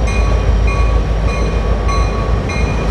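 Steady rumbling rail noise with a continuous low roar and faint high tonal whine, a CN freight train rolling past close by without pause in Belleville, Ontario.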